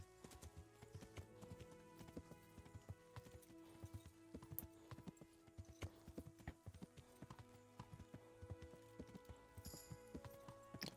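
Horse hooves clip-clop steadily along a road while riding in Kingdom Come: Deliverance, a quiet, even gait with a faint rhythmic jingle of tack throughout.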